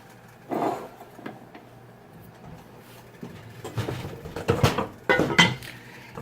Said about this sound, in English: now we are going to put a cover on this, bring it to a simmer